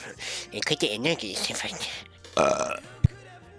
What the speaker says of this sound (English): Was that burp you preparing the recording?